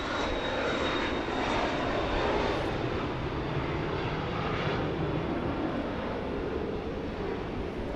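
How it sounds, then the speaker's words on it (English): A 23-year-old Cessna Citation X business jet at Dallas Love Field, its engines giving a steady, broad roar heard from a distance outdoors, continuous and unbroken with no talk. "23-year-old Cessna Citation X."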